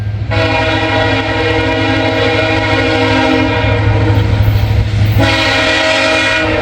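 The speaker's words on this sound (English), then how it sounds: "And we got a train down behind me." A loud Amtrak train rumbles by close up on elevated tracks, its horn blaring in long sustained chords over the steady roar of the passing cars.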